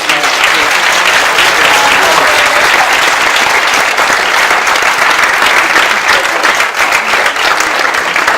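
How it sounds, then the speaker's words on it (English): Sustained audience applause for speakers closing a marine conservation forum, loud and dense clapping from a large crowd that holds steady throughout. "a massive round of applause for our speakers"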